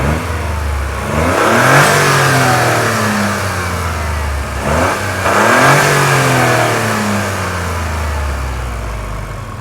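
A Toyota GR Corolla Circuit Edition with its stock OEM intake is revved twice, each rise swelling into a loud throaty roar before easing back toward a steady idle.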